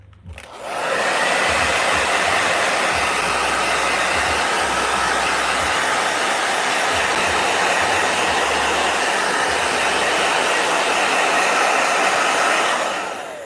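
A blow dryer runs steadily at close range, switching on with a quick ramp and holding a loud, even whoosh for the whole stretch before easing off at the end. No one talks over it.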